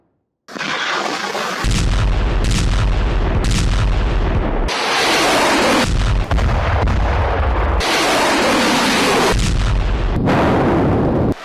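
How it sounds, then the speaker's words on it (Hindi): Russian artillery howitzer fire striking a Ukrainian armored car: a series of heavy, loud booms and blasts, with several big explosive bursts rolling one into the next across the whole stretch, no talk. "यहाँ रूसी आर्टिलरी ने यूक्रेन की एक आर्मर्ड कार को टारगेट कर उड़ा दिया है।"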